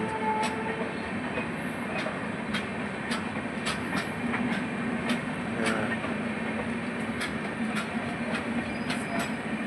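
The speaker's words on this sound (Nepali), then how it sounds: "40 डिब्बा रहेछ यो रेल चाहिँ 40 डिब्बासम्मको रहेछ" A long freight train of about forty wagons rolls past a railway crossing in Siliguri, with steady rumbling and regular clickety-clack wheel beats over the rail joints, loud and close throughout with no talk.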